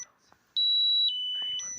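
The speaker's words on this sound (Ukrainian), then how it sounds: "Це п'єзо пищалка ось ця почне в нас пищати." A piezo buzzer on a Minsk MXM-1703 refrigerator control board sounds high-pitched electronic beeps, close and clear, a short tone followed by a longer sustained one that shifts pitch slightly.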